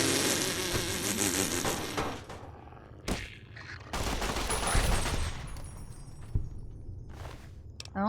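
Gunfire in Fallout: New Vegas (Old World Blues), with loud bursts of rapid shots, a short pause, then another long volley and a few trailing single shots, no talk over it.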